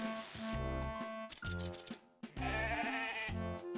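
Sheep bleating in a farming video game, several drawn-out, nasal bleats close by, separated by a brief pause.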